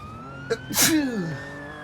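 A single loud, close sneeze bursts out over a faint siren wailing in the background.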